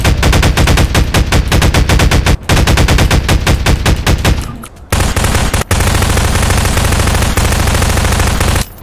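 Rapid automatic gunfire in a video game aimed at a T-Rex, loud continuous rattling volleys filling most of the span with a brief gap midway, no voices over it.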